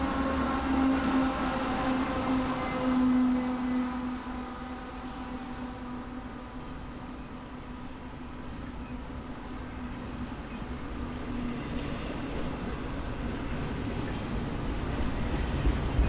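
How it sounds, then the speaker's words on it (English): A long freight train with a mid-train distributed power unit locomotive passes on a sunny day in Chehalis, a steady rumble of rolling wheels with a droning engine tone, loudest at first and holding steady. "Here comes a mid-DPU, or distributed power unit."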